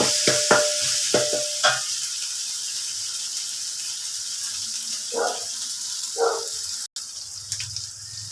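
Curry paste and spices fry in a hot pan for a fried tilapia dish, giving a steady close sizzle with a few stirring scrapes and clacks early on.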